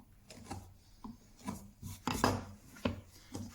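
Sharp blade shaving ash wood against the grain with the edge skewed slightly, giving repeated short rasping strokes in a steady rhythm, close and fairly quiet with no talk.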